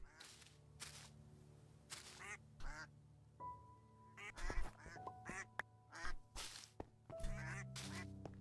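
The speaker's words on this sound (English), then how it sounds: "I have so many ducks. I have so many ducks, chat." Ducks in a Minecraft modpack quack repeatedly in short, raspy bursts, many overlapping at irregular intervals, mixed with faint game sounds and a few brief tonal blips, fairly quiet overall with no talk.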